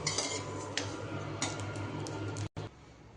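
Light metallic clinks and scrapes of a spoon transferring roasted cumin seeds into a metal pot, several taps close by over a low steady gas-stove hum.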